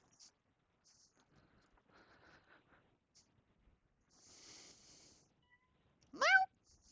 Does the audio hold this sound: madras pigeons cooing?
no